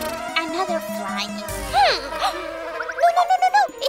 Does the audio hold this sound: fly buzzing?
yes